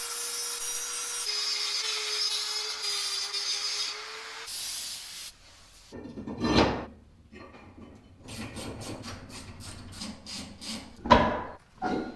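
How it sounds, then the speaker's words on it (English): Brake pads for an AE86 and Sentra being ground down with a power tool so they fit, heard as a tonal whine for the first few seconds, then broken, rasping grinding passes with gaps between them. "I gotta grind them down and clearance them"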